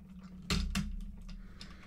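Plastic panels on a Transformers Armada Overload toy with Minicon Rollout are twisted round, giving two sharp, close clicks in quick succession followed by softer faint ratcheting.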